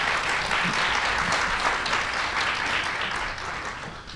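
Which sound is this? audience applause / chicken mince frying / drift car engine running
audience applause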